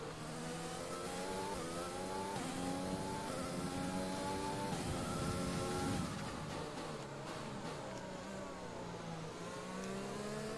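A Formula 1 car engine in the F1 2020 racing game on the Japanese Grand Prix circuit revs hard through rising gear sweeps, shifting up and down, loud and continuous.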